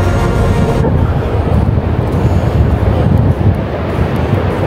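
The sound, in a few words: wind blowing outdoors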